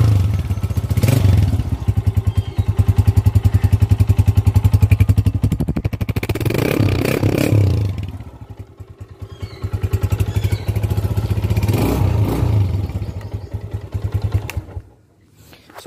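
A Honda CBF motorcycle engine runs close by with a throaty, pulsing exhaust note, swelling in several revs between steady idle before cutting out at the end.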